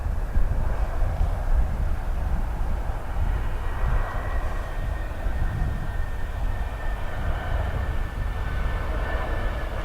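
Jet aircraft at Dublin Airport, an SAS plane with a squeaky sound, heard as a steady, fairly loud roar of engine noise with a faint high whine running through it and no talk.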